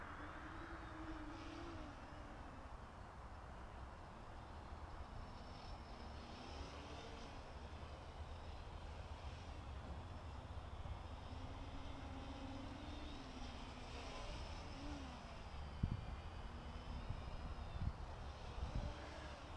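XK X350 RC airplane flying at night on very low throttle: a faint, thin motor whine rises and falls in pitch at a distance over steady background hiss, with a couple of small knocks near the end.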